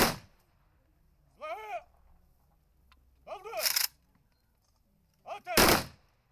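A military rifle volley fired in salute at a funeral, three separate loud cracking bursts spaced about two seconds apart, each ringing briefly into quiet air.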